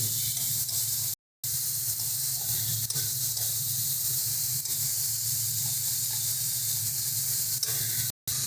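Shrimp fry with salt in hot oil in a pan, making a steady, close sizzling hiss that continues throughout, interrupted by two short silent breaks.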